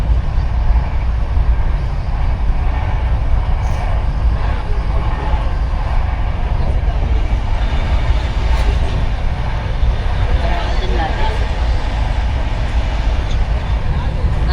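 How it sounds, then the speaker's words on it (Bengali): A train running at night rumbles heavily from inside a carriage, with a loud, continuous roar and rattle throughout. Faint voices sit under the din. "আর ট্রেনের প্রচুর আওয়াজ, প্রচুর"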